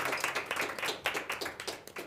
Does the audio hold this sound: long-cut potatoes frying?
no